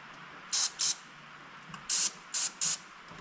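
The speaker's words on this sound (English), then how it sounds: "Now we just got some brake parts cleaner we hit it with." Brake parts cleaner sprayed from an aerosol can during a transmission leak repair, five short sharp hissing bursts in quick succession, close up and loud against a quiet background with no talk.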